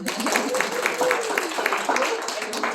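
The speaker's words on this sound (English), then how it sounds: "applause for Miss Sheila" Audience applause for a participant at a language-learning workshop, a brief run of close, moderately loud claps with voices talking over it.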